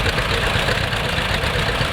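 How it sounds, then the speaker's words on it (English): An old John Deere two-cylinder tractor engine runs at a parade at a steam rally, giving a continuous loud, close mechanical chugging with a rough, knocking pulse and no pause. "They make this popping sound when they're under load."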